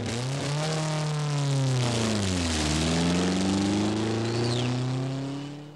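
Vic Preston's Porsche rally car at the 1978 East African Safari Rally pulls through bush, its engine revving loudly with rising and falling pitch sweeps, close and continuous throughout.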